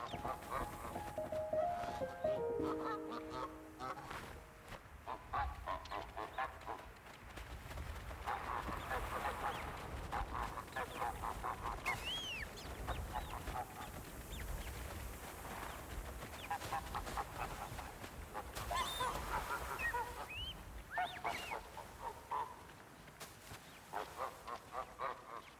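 Ducks quack and geese honk in a video game, a steady scatter of calls over a busy game soundscape, moderately loud, with no voices.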